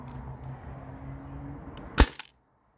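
A modified Byrna TCR launcher running on an HPA tank fires a single nylon round through a chronograph: a low hum, then one sharp close crack and a brief rattle, followed by silence.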